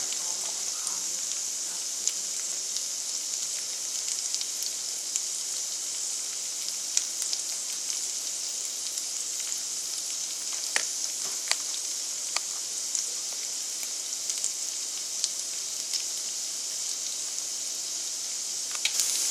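Rehydrated hash browns fry on a skillet over medium heat, a steady even sizzle with scattered sharp pops and crackles throughout, no talking.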